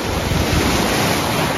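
Sea waves roll and wash onto a beach in Japan, a loud, steady broadband roar of surf mixed with heavy wind buffeting the microphone, continuous throughout with no voices.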